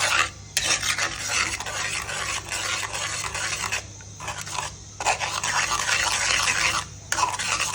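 Flattened rice cooking in milk is stirred steadily in a pot, a loud, continuous close scraping and swishing with two brief pauses and no speech.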